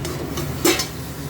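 A spoon or spatula scrapes once through lemon chicken cooking in a pan, a short stir rising briefly over a low, steady simmer.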